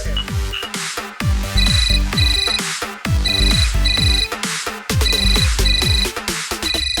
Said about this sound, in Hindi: जरा फोन लगाना।